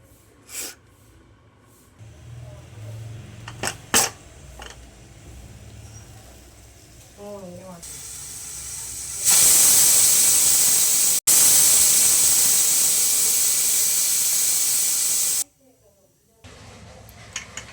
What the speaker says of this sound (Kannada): ಕುಕ್ಕರ್ ಮುಚ್ಚಳ ಮುಚ್ಚಿಬಿಟ್ಟು ಇದೊಂದು 2 ವಿಜಿಲ್ ಬಂದರೆ ಸಾಕು